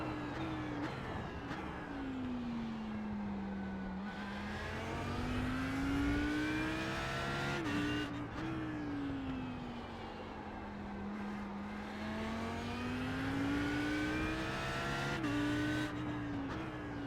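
An Audi R8 LMS race car laps Circuit of the Americas, its engine rising and falling through repeated upshifts and downshifts, with tire squeal in places, steady and close throughout with no talk.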